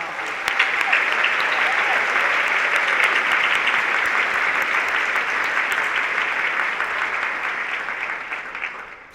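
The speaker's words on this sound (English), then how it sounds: "Please join me in a warm round of applause for our sponsors." A conference audience at a nursing education summit's opening session gives a loud, sustained round of applause that stays steady for several seconds and then tapers off near the end.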